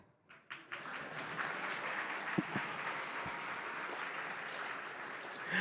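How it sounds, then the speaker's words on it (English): Audience applause at an opening ceremony celebrating fifty years, a large crowd clapping continuously after a brief quiet start, with a few sharper claps and knocks standing out within the steady wash. "Applause."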